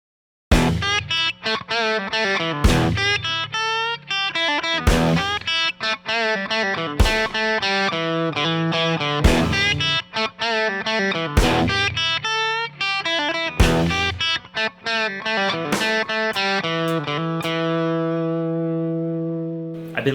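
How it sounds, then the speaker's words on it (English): A punchy electric guitar riff through a tight Tube Screamer-style overdrive pedal with trimmed low end, played as loud, repeated chugging phrases with sharp attacks that end on a ringing held chord. "you really want to use a tight distortion sound with not a lot of low-end frequencies"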